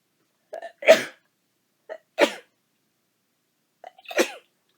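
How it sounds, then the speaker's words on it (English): Three sharp sneezes spaced a second or two apart, each preceded by a quick inhaled catch, close and forceful against silence. "I sneezed hard enough to knock my glasses down."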